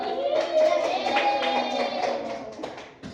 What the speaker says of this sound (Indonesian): Berarti anak bapak semuanya. Tepuk tangan.